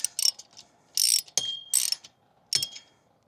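A hand ratchet snugs down bolts on a ham radio antenna mount while it is being repaired after wind storm damage. Several short, bright bursts of clicking come in quick spurts with pauses between them, close up and with no talk.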